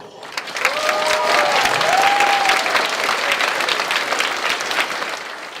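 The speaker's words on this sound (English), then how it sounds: "please join me in giving a round of applause to all the peers and pros that made this place what it has been" A high school graduation audience breaks into steady, dense applause that fills the room for several seconds. A few whistles cut through the clapping near the start.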